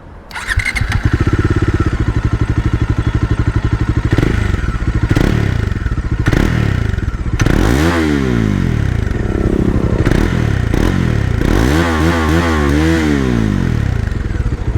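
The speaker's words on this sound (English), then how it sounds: "I'll also make you hear the exhaust note, the sweet sounding exhaust note of this bike" A Bajaj Dominar 400 BS6 motorcycle engine starts and idles with a loud, throbbing exhaust, then revs up sharply several times in rising and falling bursts, close by.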